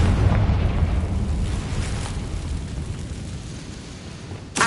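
A Confringo fire-spell explosion in the video game Hogwarts Legacy rolls out as a loud, heavy rumbling blast that slowly fades, then a second sharp burst cracks in near the end. No voices.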